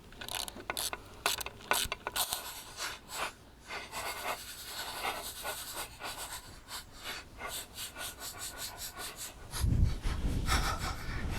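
Ratcheting 12mm socket wrench tightening bolts on a Yamaha 9.9 outboard motor, rapid repeated pawl clicks in bursts at close range, ending with a louder heavier mechanical clunk.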